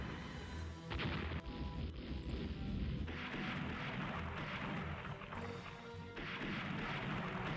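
Naval gunfire in the Rule The Waves game lands on a destroyer, heard as a dense run of booming shell impacts and crashes, loud and continuous with heavy rumble and almost no pause.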